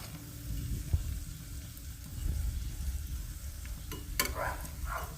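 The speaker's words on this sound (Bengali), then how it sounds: "ভাজা করব ভালোভাবে।" Steady low sizzling and bubbling of a Mughlai paratha frying in hot oil, with a few soft clinks and scrapes near the end.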